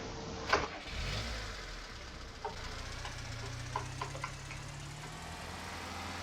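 A farm tractor starts and idles quietly nearby while a wheeled wagon is hitched. A few faint metallic clanks sound over the steady engine hum before it pulls away.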